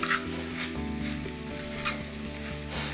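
Boiled rice tossed with masala in a hot pan for mutta choru, a low sizzle broken by repeated spatula scrapes and stirring strokes, with gentle music underneath.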